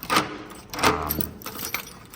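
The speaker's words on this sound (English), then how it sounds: "Let's check these keys." A ring of keys held on file by an apartment building's management jingles during a final walkthrough of a unit, with a few short metallic rattles in bursts, close and moderately loud.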